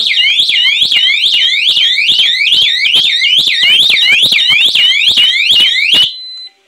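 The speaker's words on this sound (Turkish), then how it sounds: "Ayırdıktan sonra şimdi şarjda alarm çağırdı, çaldı." A burglar alarm system, triggered when a magnetic door contact is separated, blares a loud, rapid, repeating warbling siren tone for about six seconds before cutting off abruptly.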